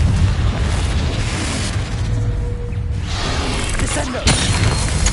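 A Confringo blasting spell goes off in Hogwarts Legacy, a loud, dense burst of booming, crackling explosion noise that rolls on with a sharp crack near the end.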